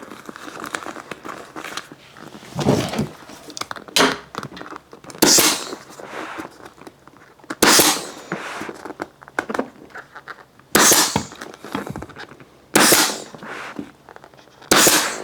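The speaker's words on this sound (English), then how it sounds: "I'm going to get the staple gun and stretch it and staple" A staple gun fires sharp, loud snaps in short irregular bursts, roughly eight clear shots, as vinyl is stretched and fastened onto a dining chair seat, with quieter rustling and handling noise between shots.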